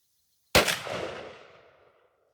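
A Remington 870 shotgun fires a single S&B 12-gauge 2-3/4 inch 00 buckshot shell, a sudden loud, sharp blast that rolls off in a long echoing decay over about a second and a half.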